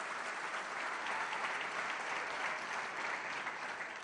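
Audience applause at a political event in Argentina, a steady, even wash of clapping from a crowd lasting several seconds, fairly faint and heard alone.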